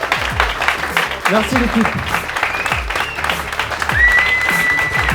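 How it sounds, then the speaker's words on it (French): An audience at a company keynote applauds the team in steady, dense clapping that fills the room, with someone speaking over the applause and a faint high whistle near the end. "j'aimerais qu'on les applaudisse tous"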